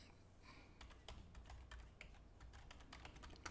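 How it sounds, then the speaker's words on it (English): Typing on a computer keyboard into a Google search box, quick irregular key clicks close by at moderate volume, with no voices over them. "So if we go over here to Google and we type in"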